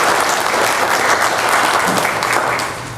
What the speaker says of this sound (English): I think we should give those students and Mr. Alex Campbell's class a round of applause.